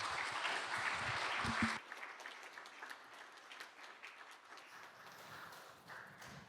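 A church congregation claps at a Sunday worship service, a loud burst of applause for nearly two seconds that cuts off, followed by quieter room sound.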